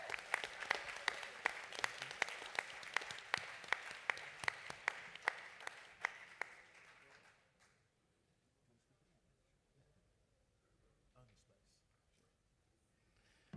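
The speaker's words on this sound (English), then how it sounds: "Give the brother a round of applause." Crowd applause at a National Action Network convention in 2023, greeting a speaker from Canada with dense clapping that fades out after about seven seconds into near silence.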